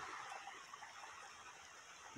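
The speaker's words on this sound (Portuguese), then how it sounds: "Riacho com água." A small creek runs full after heavy rain, its faint steady trickle and wash staying soft and distant for a couple of seconds.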